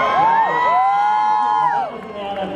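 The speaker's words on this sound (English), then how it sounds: "Go ahead and cheer." A large audience at a Hollywood Walk of Fame ceremony honoring Peter Jackson cheers loudly, with whoops and high shouts rising over a steady roar of crowd noise that fades slightly toward the end.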